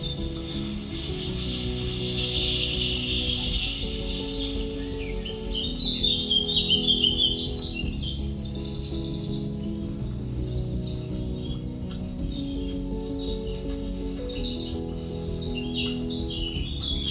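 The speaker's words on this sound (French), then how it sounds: "C'est vraiment des bruits d'oiseaux comme vous entendez là." Birds chirp and trill continuously outdoors, several calls overlapping above a low steady hum, moderately close with no talking.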